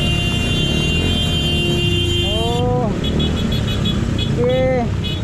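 Car horns honk in congested traffic, two short rising blasts a couple of seconds apart over a constant engine and street rumble, while a person talks throughout.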